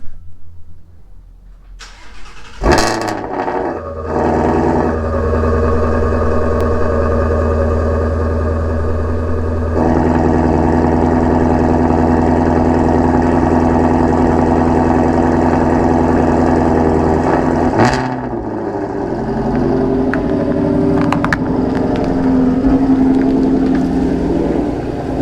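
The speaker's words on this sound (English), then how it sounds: "Perfect time for a cold start." A Ford Mustang GT350R cold-starts with a cranking whir and a loud bark, then settles into a steady, deep, rumbling idle that continues for a long stretch with a slight change partway through, heard close and without speech.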